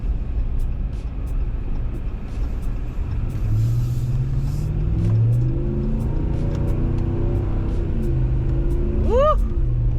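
A RAM Rebel G/T pickup with a 5.7L Hemi V8 and four-wheel drive cruises a snowy road, its engine a steady low rumble with rising and falling revs, plus a brief whoop near the end.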